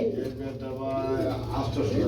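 Pigeons at a pigeon market coo softly and continuously close by, mixed with people talking throughout.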